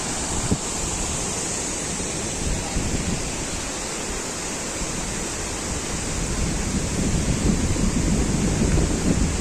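Cascata delle Marmore, a large man-made waterfall, roars as a steady broadband rush of falling water, constant and enveloping with no talk.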